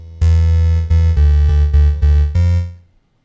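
A Thorn VST synth wavetable with saturation applied plays a loud, gritty repeated note about six times in a steady pulse, then fades out quickly.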